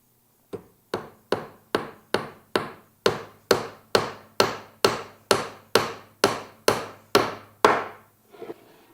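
A hammer drives a nail into a wooden birdhouse roof with about sixteen evenly spaced, sharp knocks, loud and close, each ringing briefly before the next, ending with a softer scuff.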